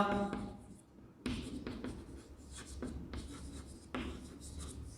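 Numbers are written by hand during a class 4 maths lesson on HCF and LCM, in a steady scratching stroke with a few short pauses. A quiet, indistinct voice can be heard faintly in the background.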